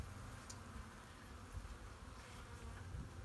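Honeybees buzz in a soft, continuous drone, a close hum of many insects with no talking.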